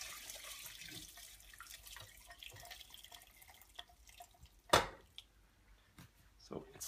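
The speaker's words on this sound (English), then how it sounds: "And pour it all out" Hot bone broth pours from a pot through a filter and splashes into a sink, with a sharp clatter partway through and a voice talking faintly in the background.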